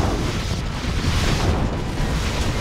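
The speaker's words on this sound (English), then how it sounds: "Nuclear missile launched." Nuclear missile launch in Command & Conquer: Red Alert, a dense, roaring rush of noise that holds steady and loud throughout, like a sustained blast of rocket thrust.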